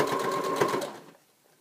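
A sewing machine stitches fabric for a memory bear around a curve at a quarter-inch seam, a rapid close buzzing run that stops abruptly, leaving near silence.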